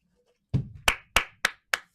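A single person claps five times, close and crisp, the first a duller thud and the rest sharp, evenly spaced slaps after a short silence.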